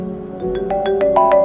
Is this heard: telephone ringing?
yes